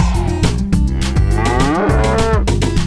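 A cow moos on a farm, several long, loud lowing calls over a steady musical backing in a children's farm song.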